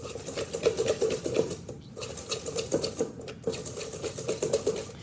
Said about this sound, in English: just take a whisk and just beat it up for about 2 to 3 minutes until it's light and fluffy